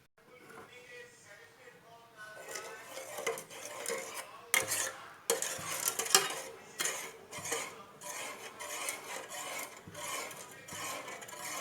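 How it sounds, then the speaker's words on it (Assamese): Rice flour baby food stirred in a pot on a gas stove, with a utensil scraping and clinking against the pot in irregular strokes, fairly faint and close. "ঘনাই লৰাই থাকিব, নহ'লে পটককৈ লাগি ধৰে পিঠাগুড়িটো।"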